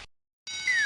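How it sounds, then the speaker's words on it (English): A cartoonish cat meow sound effect from a trivia video game: a short blip, a pause of silence, then a bright, loud meow with a falling pitch slide at the end, alone with no talking. "Hit me with a cat."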